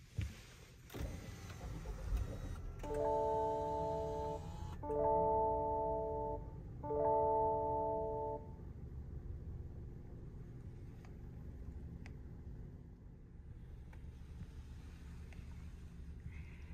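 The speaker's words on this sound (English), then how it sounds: "Let's go ahead and start the vehicle." Startup chime of a 2023 Lexus RX350: three short, evenly spaced tonal chime bursts ring clearly over a low, quiet cabin hum, with a soft click just before them.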